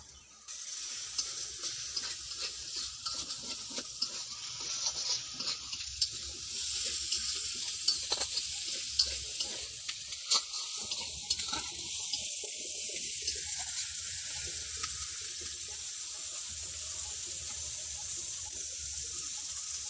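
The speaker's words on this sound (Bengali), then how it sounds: "আমি পেঁয়াজ ভাজার সময় এখানে নুন দিয়ে দিচ্ছি পরিমাণ মতো" Onions with salt frying in a pan for a village-style desi chicken curry, a steady soft hiss of sizzling oil running continuously at moderate volume with no talking.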